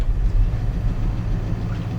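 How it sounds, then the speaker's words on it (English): A 1986 Dodge Ram farm truck with old dual exhaust and glass packs rumbles steadily, a deep, loud, even engine drone with no voices over it. "Got some old dual exhaust with glass packs on it. Sounds pretty good though. Got that good old farm truck sound."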